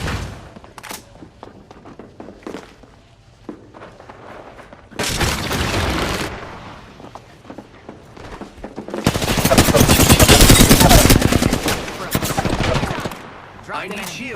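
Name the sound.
gunfire in the video game Apex Legends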